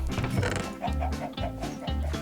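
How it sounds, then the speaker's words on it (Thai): Chickens on a Minecraft farm clucking in short, repeated pulses under a busy game soundtrack, close and steady throughout. "โอ้ไก่เยอะ ไก่เยอะ ไก่เยอะ"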